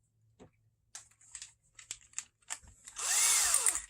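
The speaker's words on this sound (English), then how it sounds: "And I have the drill set to a slower speed" Power drill fitted with a spinning chisel-style cutter running at slow speed, first a string of short whirring bursts and clicks, then one sustained loud grinding whine near the end.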